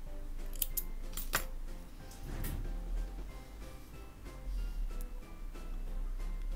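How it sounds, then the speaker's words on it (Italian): Scissors snip through crochet yarn in a quiet room, a few sharp metallic cuts and clicks standing out close by against a low steady hum. "possiamo tagliare il filo"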